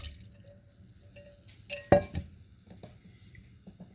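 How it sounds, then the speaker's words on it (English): Chicken and broth pour into a soup pot for homemade chicken noodle soup, a brief splashing slosh with a clink of utensil against the pot, followed by faint drips and kitchen rattles. "We're going to add in our chicken with our broth."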